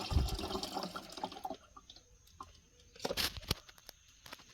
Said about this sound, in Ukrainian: Виливаємо медяну в оприскувач. Ну, залишки також вимиваємо і в оприскувач.